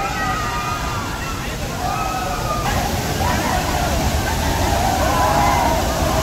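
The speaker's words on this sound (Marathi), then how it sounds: "सो हा होता सवतकडा धबधबा" Savatkada waterfall, one of the falls at Nitwade on a forest trek, roars as a steady, loud wash of rushing water that fills the whole clip, with faint voices of people in the background.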